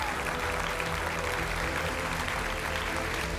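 Studio audience applause welcoming three judges on a televised debate show, a dense, continuous round of clapping layered over a low, steady musical bed.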